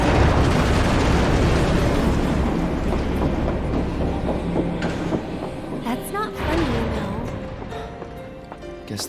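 A train in the video game Final Fantasy VII Remake rumbles past with a loud, continuous rolling roar, joined by sharp metallic bursts and screeches toward the end, as a voice speaks over it.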